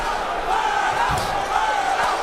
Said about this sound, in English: Crowd chanting Berto's name as he connects with a right hand